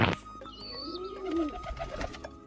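A pigeon coos close by, a low rolling call swelling and falling twice over a faint hum with scattered chirps from other birds, and no one speaks.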